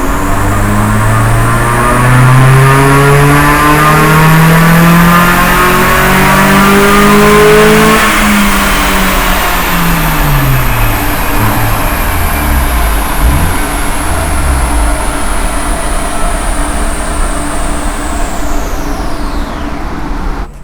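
A car engine tuned with a Unichip runs loud and close, revving up and then easing off, sustained throughout with no voices.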